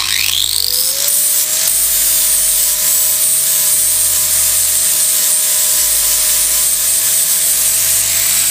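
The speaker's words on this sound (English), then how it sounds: "and buff the weld back" A power tool buffs back a weld on a welded metal sculpture, starting with a rising whine that settles into a loud, steady grinding hum with continuous abrasive rasp.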